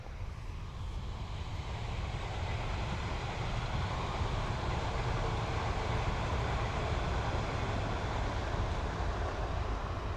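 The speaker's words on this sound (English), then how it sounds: "We've got a train coming past in a minute." A steady, continuous rumbling roar of a train going past, broad and unchanging throughout with no voices.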